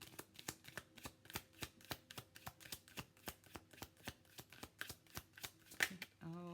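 Tarot cards shuffled by hand, a rapid run of crisp riffling snaps in a steady rhythm, close and fairly quiet, ending with a brief tone.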